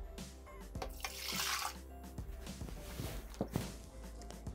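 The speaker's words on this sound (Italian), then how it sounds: "Iniziamo la ricetta mettendo all'interno del boccale l'acqua" Water is poured into a Thermomix TM6 mixing jug while making aubergine pizza. A soft splashing wash rises and falls, with scattered small knocks and clinks from handling, quiet and close by.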